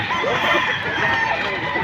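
Chickens and roosters at a chicken sale in Padre Garcia, Batangas, crowing and clucking in a busy, close mix with people talking over and around them.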